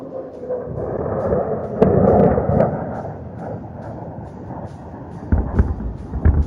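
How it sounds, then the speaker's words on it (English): A salvo of 80mm rockets fired from a diving aircraft during an Indian Air Force firepower demonstration, heard as a far-off rumbling roar with a sharper burst partway through and another rising rumble near the end. "It fires a salvo of 80mm rockets."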